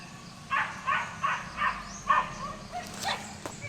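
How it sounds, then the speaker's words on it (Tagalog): A dog barks in a rhythmic series of about five sharp barks, somewhat distant, followed by a few softer yips over a quiet outdoor background. "Tumatahol yung aso, sila siguro yan."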